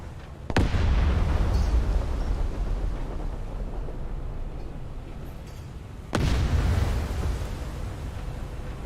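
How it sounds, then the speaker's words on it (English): Torpedoes launch at an enemy cruiser in a naval battle video game, with two sharp bursts each followed by a sustained low roaring rumble, loud and without voices. "there go my torpedoes against that hipper"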